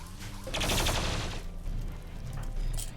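Gunfire in the Rimworld video game rattles out as a dense burst of rapid shots, loudest early on, then continues as quieter scattered firing against a low rumble.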